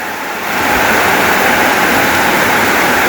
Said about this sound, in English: all the water's pouring through the broken wall where the subsidence is